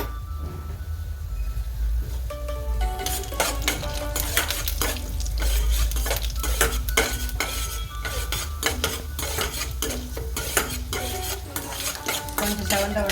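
Urad dal fries in oil in a pan, a steady sizzle beneath repeated sharp scraping and clinking of a utensil being stirred against the pan.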